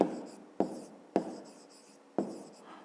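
Pen writing numbers in a notebook during a fifth-grade maths exercise, four quick scratching strokes each starting with a sharp tap and fading, close and quiet.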